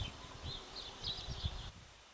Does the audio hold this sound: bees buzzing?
yes